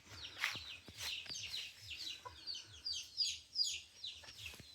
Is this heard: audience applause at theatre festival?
no